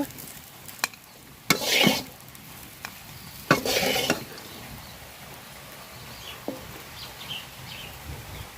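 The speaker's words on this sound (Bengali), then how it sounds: "পেঁয়াজ মরিচ রসুন খুব সুন্দর করে বাজা নিছি" Onion, chili and garlic stir-fried in a pan, with a low sizzle and a few loud spatula scrapes and clatters against the pan, close up and with no talking.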